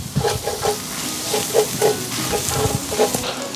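Garlic and chilli hit onions in brisket fat with a loud, close sizzle broken by rhythmic stirring scrapes and clatters, repeated every fraction of a second, with no talking.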